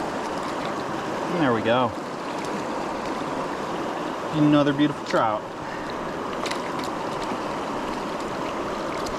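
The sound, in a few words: river water pouring over a ledge of rocks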